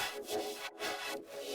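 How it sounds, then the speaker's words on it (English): In an electronic drop breakdown, a trance gate chops a bright, dense synth layer into rhythmic pulses, with short, sharp cut-outs between the loud sustained swells. "Yeah, that trance gate effect."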